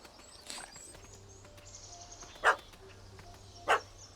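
Two short, loud barks from a dog spaced about a second apart, set against a quiet outdoor video-game scene where a cat has fled up a tree, with faint background ambience between them.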